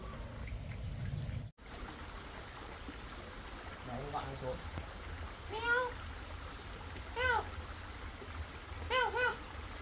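A cat meows several times, a series of short rising-and-falling cries spread over several seconds, moderately distinct over a soft background hiss like light rain.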